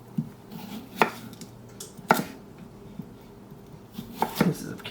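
A knife chops cucumber into chunky pieces on a board, with a few sharp, separate thuds and a quick double strike near the end, and a faint background hum between the cuts.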